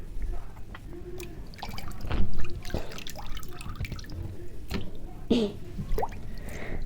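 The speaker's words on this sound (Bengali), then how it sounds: "দেখুন আমি এখানে চিকেনটা ধুতেছি।" Raw chicken is rinsed under running water in a kitchen, with irregular splashes, drips and trickles as the pieces are handled, close by and moderately loud, with a few brief louder sloshes.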